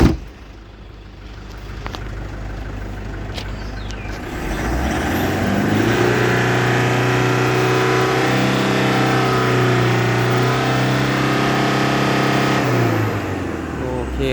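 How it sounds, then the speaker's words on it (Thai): A 2014 Toyota Vigo Champ Prerunner 2.5 pickup engine idles, then revs up and holds a loud, steady roar for several seconds before easing back down, close by. "เดี๋ยวเรามา เร่งเครื่องดูนะครับผม"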